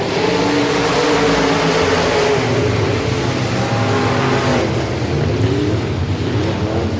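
Race cars roaring around the oval at Boothill Speedway, a loud, continuous pack of engines revving and droning together, pitch rising and shifting as cars pass close by.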